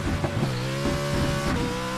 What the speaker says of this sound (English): over revving the crap out of it. Really, really high revs